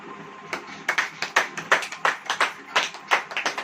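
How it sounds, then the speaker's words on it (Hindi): A church congregation claps in an uneven rhythm, individual sharp hand claps spaced roughly a few per second, moderately near and without talk. "ताली बजाइए"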